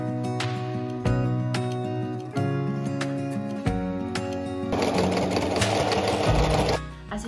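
Sewing machine stitching fabric for a cuddly toy, running loud and close in bursts of steady rapid whirring and stitching with brief pauses between runs.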